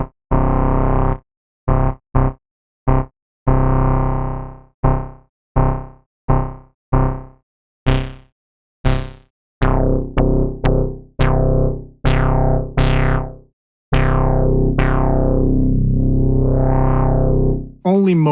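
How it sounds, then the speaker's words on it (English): A resonant Moog-style analog synthesizer with a Moog filter plays a series of short punchy notes, then longer swept tones as the filter opens and closes, squelchy and bright, with no voices. "Only Moog filter can sound like this"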